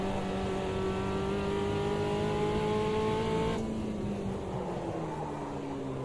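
A Volkswagen Passat race car in a racing video game holds a loud, steady engine tone whose pitch climbs, then drops sharply as it brakes, settling into a lower continuous drone with track noise.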